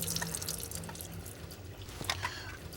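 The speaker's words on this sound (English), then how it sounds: "we're gonna crack both of these open, so we can drain out the water" Water drains from two opened cans of tuna, a steady close trickle and drip with small splashes for a few seconds.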